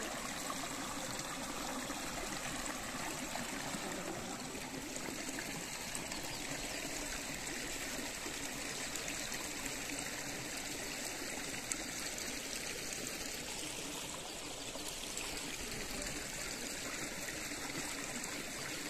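Flowing water at a temple pond at Khireshwar's Nageshwar temple, a steady, continuous stream and trickle heard at moderate distance with no break or voices.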